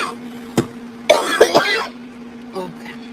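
A woman coughs in short bursts, a sharp single cough followed by a louder cluster of harsh coughs and a fainter one after, close up with some voice mixed in.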